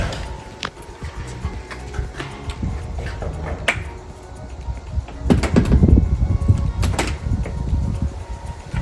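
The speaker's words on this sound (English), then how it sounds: "All right, this door, let's see if it shuts." A newly installed door in a barndominium build is swung shut to test it, with sharp knocks and a louder thud and rattle of the door closing partway through amid light handling noise.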